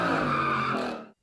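Car tires squeal in a sustained, loud skid during street stunt driving, holding a bright screech for about a second before cutting off abruptly.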